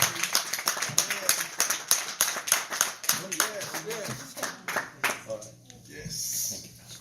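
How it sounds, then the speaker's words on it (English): Church congregation clapping hands in rhythmic bursts during worship, fairly close and moderately loud, with voices calling out and speaking over the claps before they fade. "Clap your hands again."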